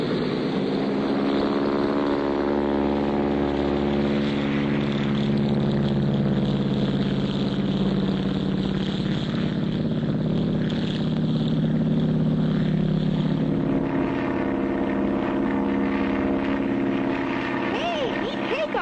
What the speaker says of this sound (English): Hey, neat takeoff, Clutch.